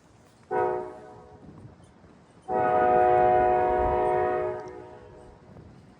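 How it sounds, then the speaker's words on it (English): A K5LA horn on the cab car of commuter train 1213, Hoboken to Waldwick, on the ex-Erie Main Line in northern Bergen County, New Jersey, gives a short chord blast, then a long sustained one, loud and alone. "That lovely melodious K5 LA is signaling the approach of train 1213, Hoboken to Waldwick"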